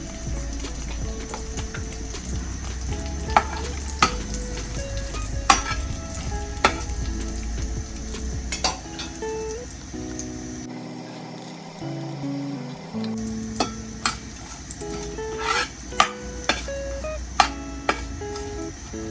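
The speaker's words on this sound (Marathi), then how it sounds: "जिरा असा तडतडायला लागला तर गॅस बंद करून घ्यायचा आहे" Cumin seeds crackle and sizzle steadily in hot oil, with sharp pops scattered throughout and no voices.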